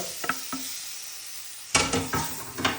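Fish masala being stirred in a hot pan for a lobster curry, with a soft scraping spoon and a faint sizzle, quiet at first and then a louder burst of stirring strokes near the end.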